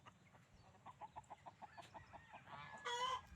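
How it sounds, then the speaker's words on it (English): Chickens cluck in a steady series of short, evenly spaced calls alongside a strutting turkey tom, building to a louder, squawking burst near the end. "The chickens are a little concerned."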